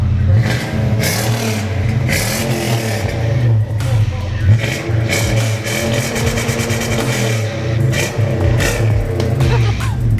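Toyota Tundra engine running through a straight-piped resonator with just the muffler, a loud, deep rumble that swells in repeated revs and settles back to idle, with some voices underneath.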